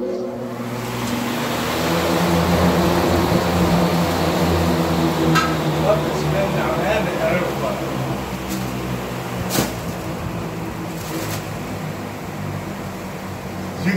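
An old Dayton electric fan runs at full speed, a loud, steady whooshing roar with a low motor hum, close up, with a few faint knocks and clicks.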